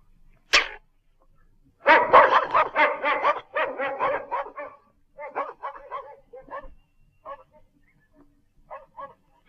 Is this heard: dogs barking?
yes